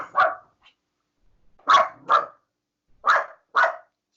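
A dog barks six times nearby, in short bursts that mostly come in pairs, with quiet gaps between them and no talking.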